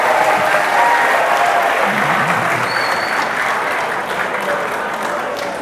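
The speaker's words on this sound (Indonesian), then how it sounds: "Tepuk tangan sekali lagi buat teman kalian," Classroom applause for a classmate named Hendrik, a loud, dense burst of many hands clapping together that holds steady for several seconds and tapers slightly.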